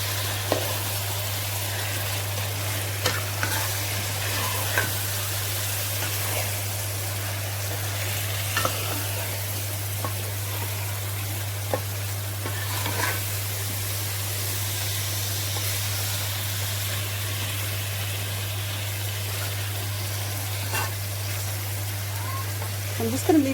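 Cod fillet curry frying in a pan over high heat, a steady bright sizzle with occasional scraping clicks of stirring, continuous and close, under a constant low electrical hum.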